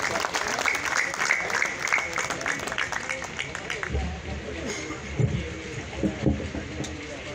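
An audience at a skills and job fair applauds to welcome a speaker: dense clapping that thins and fades after a few seconds, with a voice over a microphone toward the end.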